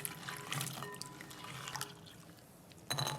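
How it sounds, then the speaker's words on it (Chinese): Red dates (jujubes) being rinsed in clear water in a bowl: soft close splashing and trickling that comes in uneven bursts, quiets in the middle, then rises again sharply at the end. "然后再加上适量的清水，先用清水给它清洗一下"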